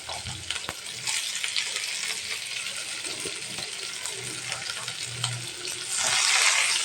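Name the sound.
chopped onion frying in hot oil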